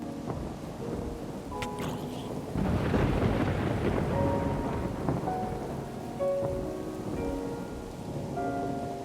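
A video-game thunderstorm: steady rain patters on surfaces while a rumble of thunder swells partway through and then fades, with one brief spoken word.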